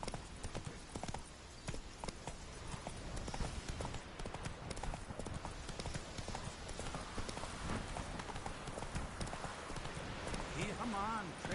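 Horse hooves clip-clop steadily in The Witcher 3: Wild Hunt, a continuous, fairly quiet trotting rhythm. Speech is heard in the clip alongside the hoofbeats.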